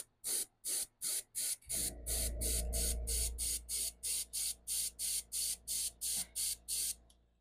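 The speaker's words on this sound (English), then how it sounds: "Get my airbrush set up, and let me just spray this guy here" An airbrush sprays paint through a stencil onto a fishing bait in quick, evenly spaced hissing bursts, with a longer continuous spray near the start, close and clear.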